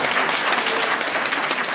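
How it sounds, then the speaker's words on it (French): Audience applause fills a hall at an international inventions fair in Abidjan, a dense steady wash of many clapping hands with no pause, loud and close throughout. "c'est tout ce qui est là comme applaudissement"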